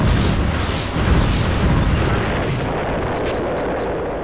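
Ships trading fire in space combat in the video game EV Nova, a loud, continuous wash of rumbling blasts and booms with faint small beeps near the end and no talk.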